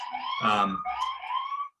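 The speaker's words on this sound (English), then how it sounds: "Excuse the siren. I don't know if you can hear that." A siren wails in the background, rising and falling in pitch for a couple of seconds, with a voice briefly speaking over it.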